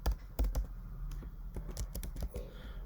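Quiet, rapid computer keyboard typing while Swift code is entered, an irregular run of close, light key clicks and taps with no voice.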